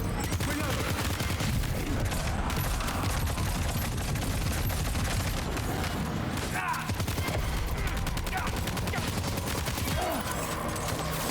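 Conventional weapons fire in Death Stranding 2, a relentless fusillade of rapid gunshots and machine-gun bursts crackling loudly and continuously for the whole stretch, with a brief dip partway through.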